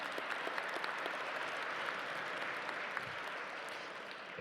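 Gala audience applauding in a large hall: a broad, even wash of many hands clapping at moderate distance, tapering slightly toward the end.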